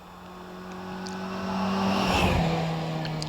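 A Datsun Cherry race car climbs the Doune hillclimb course, its engine note rising steadily as it draws nearer, loud and sustained, with a brief tyre squeal near the peak.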